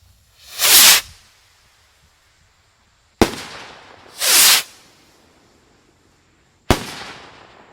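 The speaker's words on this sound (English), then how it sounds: "We got two devil rockets going." Devil rocket fireworks launching at an outdoor pyro gathering: two long rising whooshing hisses, each followed by a sharp, loud crack, spaced a few seconds apart with quiet between.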